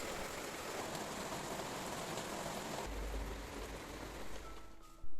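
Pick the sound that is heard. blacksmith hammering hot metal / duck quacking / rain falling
rain falling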